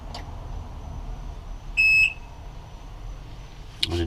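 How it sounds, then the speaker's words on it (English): A single short electronic alarm beep from a Johnson/Evinrude OMC outboard boat key switch rings out for about a third of a second amid quiet background hiss, with faint clicks at the start and end. "let's try the key switch here, and we'll listen to the alarms go through"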